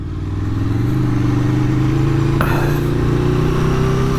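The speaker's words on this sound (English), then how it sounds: "how can you not love the sound of a V4?" An Aprilia Tuono V4 1100 Factory motorcycle engine revs hard and steadily nearby, its pitch slowly climbing as the throttle opens.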